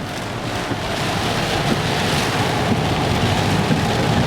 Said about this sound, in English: Look at the rain going off the roof.